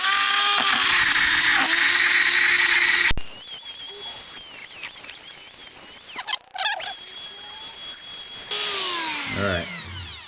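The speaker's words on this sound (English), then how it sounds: "first let me Dremel the other side just for planning" Dremel rotary tool grinding a 1961 VW Beetle door panel, a loud high-pitched whir in several bursts with short pauses and changes in pitch as it bites into the panel.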